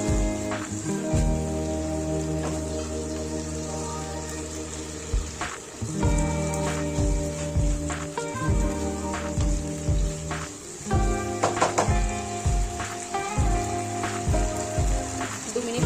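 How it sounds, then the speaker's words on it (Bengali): Green peas sautéed with spices in a pan for motor shutir ghugni: close, steady sizzling and crackling with repeated rhythmic scraping and tapping of a spatula against the pan. "মটরশুঁটিটাকে দিয়ে আবারও কষিয়ে নেব।"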